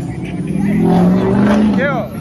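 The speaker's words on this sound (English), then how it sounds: "We got a whole Mustang coming through." A Ford Mustang drives past at a South Carolina truck meet in Anderson, its engine note climbing and swelling loudly as it nears, with voices from the crowd nearby.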